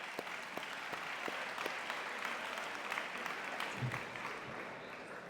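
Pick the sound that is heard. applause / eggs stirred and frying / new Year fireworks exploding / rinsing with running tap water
applause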